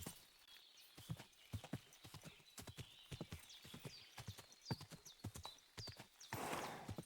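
Horse hooves clip-clop steadily at close range in the medieval game Kingdom Come: Deliverance II, with a brief whinny and a rough, noisy burst near the end.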